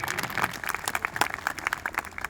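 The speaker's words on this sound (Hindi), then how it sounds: "एक बार इन सभी के लिए एक बार जोरदार तालियां हो जाएं" An audience at a Tyagi Bhumihar joint assembly gathering in India applauds. Dense, continuous crowd clapping stays fairly close and steady throughout, with no voices over it.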